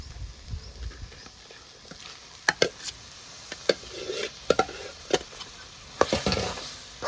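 Fish cooks in a masala in a pan, a low sizzle punctuated by sharp spoon taps and scrapes against the pan as it is stirred, irregular and fairly close, with no talking.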